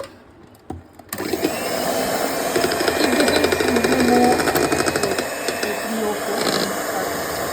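An electric mixer blends homemade cake batter with vanilla essence in a home kitchen, switching on after a second and then whirring steadily and loudly up close with a slightly fluctuating motor drone.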